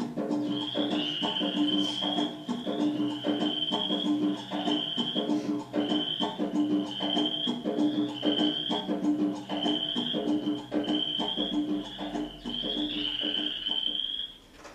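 A swarm of frogs croaks in loud, rhythmic pulsing choruses that repeat steadily and fill the scene without pause, with insect chirps faint behind them.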